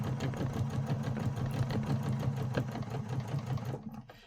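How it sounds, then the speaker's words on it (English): Sewing machine with a scant quarter-inch foot stitching fabric triangles for a hexagon quilt block, a steady close mechanical whir with a rapid needle rhythm that runs continuously, then stops abruptly near the end. "They are ready to go into the sewing machine."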